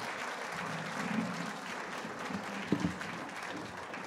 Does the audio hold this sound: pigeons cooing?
no